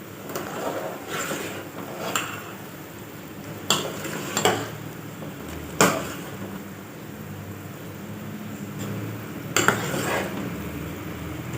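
Wheat semolina (rava) for upma is tipped into a hot pan and stirred, giving scattered clinks and scrapes of a spoon against the metal pan with a few sharper knocks, fairly close and with no talking.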